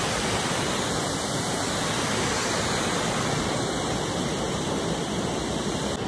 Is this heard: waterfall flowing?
yes